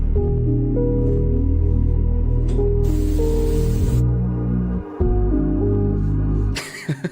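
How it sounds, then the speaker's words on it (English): Hairspray sprayed onto hair in a single steady hiss lasting about a second, close and clear over continuous background music. "I spray my hair with hairspray."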